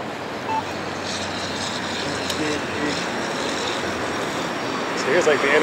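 Steady, loud roar of interstate traffic with trucks and cars passing nearby, heard from an ebike riding along in Portland toward Vancouver, with a few faint beeps near the end.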